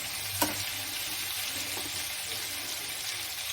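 Fish frying in an iron pan, a steady close crackling sizzle with a single sharp tap early on and faint scraping, no one talking.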